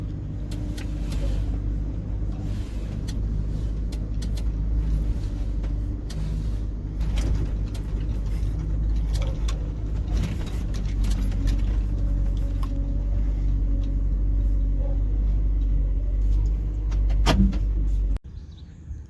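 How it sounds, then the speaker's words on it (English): A truck with an electrical fault drives along, its low engine rumble steady throughout, with rattles, clunks and knocks from the cab over bumps, then an abrupt cut near the end. "So this truck went for a drive again"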